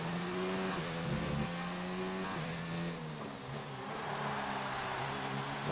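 A Formula 1 car engine in the F1 2019 game, German Grand Prix, hums with a loud, steady whine as the car heads to the pits, its pitch stepping down through gear changes, then easing and settling lower.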